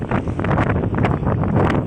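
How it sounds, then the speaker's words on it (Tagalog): Heavy wind rushes and buffets the microphone continuously at a river bridge, a dense, loud roar with no voices. "Sobrang lakas na nga talaga ng hangin at ng agos ng ilog dito sa Taliptip Bridge"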